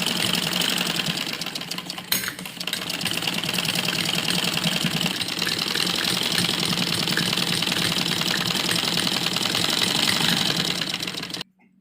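A sewing machine runs continuously, stitching a topstitch along the waistband of a child's Afghani salwar, a close, steady whirring chatter that briefly pauses near the start and stops abruptly at the end.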